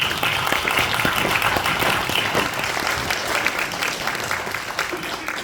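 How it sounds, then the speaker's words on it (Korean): An indoor crowd at a Korean book launch celebration claps steadily and densely for several seconds, with no talk over it. "격려하는 뜻에서 우리 박수로 한번 해주십시오"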